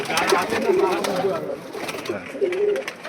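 Flying pigeons cooing softly in repeated low, throaty phrases close by, with faint rustling in the background and a person speaking nearby.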